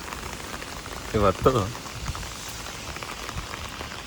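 Rain falls steadily in Tokyo on a wet Sunday walk, a continuous soft hiss of drops on surfaces, with a brief voice speaking over it near the middle.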